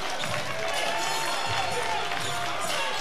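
A junior college basketball crowd in a gymnasium roars and cheers after a player fouls out, a loud, sustained swell of voices with scattered claps and sneaker squeaks.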